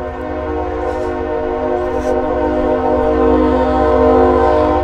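Loud, sustained train horn blaring close by as a train passes in Kansas City's historic West Bottoms, a steady chord of tones over a deep rumble of the moving cars that holds for several seconds.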